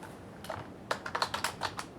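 Quick computer keyboard typing, a fast run of close, crisp key clicks lasting about a second after a couple of isolated taps, with no voice.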